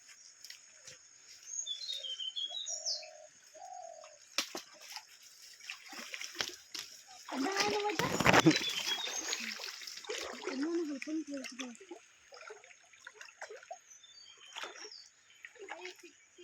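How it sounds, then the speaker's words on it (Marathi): A man wades through a shallow stream to pull out a crab trap, making intermittent water splashes and sloshing that build to a louder burst midway, with birds calling and people talking at a distance. "बाबू भैया आमचा आता ओढ्यात जात आहे जाळी काढायला."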